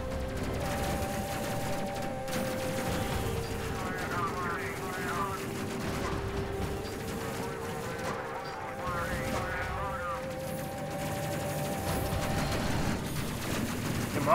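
Ship guns fire in rapid, sustained volleys aboard a spacecraft in the video game Space Crew. The shots are continuous and dense, blended with tonal game sounds across the whole stretch.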